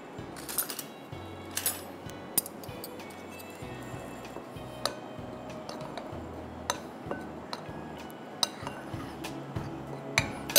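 Flour, cornflour, salt and black pepper are stirred together in a bowl, giving soft scraping with repeated light clinks of a utensil against the bowl, close and fairly quiet.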